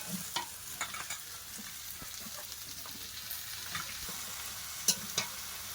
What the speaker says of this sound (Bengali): একটু ভালো করে ভেজে নেবো হ্যাঁ।